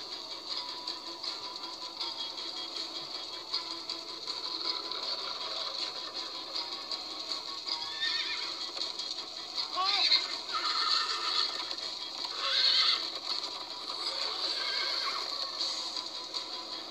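Horses in the Minecraft Story Mode video game whinny and neigh several times, with clip-clop hooves and a steady game soundscape running underneath.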